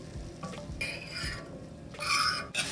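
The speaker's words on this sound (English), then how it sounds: "do y'all hear that sizzle?" Chicken for a Philly cheesesteak sizzling and crackling in a hot pan, with a utensil stirring and scraping, steady frying hiss throughout.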